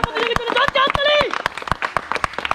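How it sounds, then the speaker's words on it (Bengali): Quick, evenly spaced hand claps for the second-place finisher in a balloon-popping party game, mixed with a chanting voice during the first half before the clapping carries on alone. "হাততালি হাততালি।"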